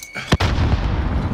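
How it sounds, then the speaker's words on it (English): A grenade goes off in Call of Duty: Modern Warfare with a sharp, loud blast, then a rumbling roar and debris noise that trail on to the end. "Grenade out!"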